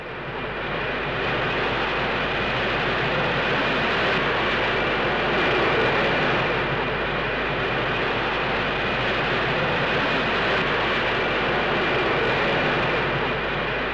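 Concorde supersonic airliner, 1976, accelerating toward transonic speed: a loud, steady, broadband roar of jet engines with a faint high whine, sustained and unbroken throughout.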